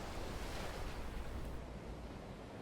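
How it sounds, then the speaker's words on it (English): Ocean waves breaking against low rocks lining a beach at night, a steady broadband wash of surf, soft and continuous with no voices. "waves breaking against low rocks lining the beach"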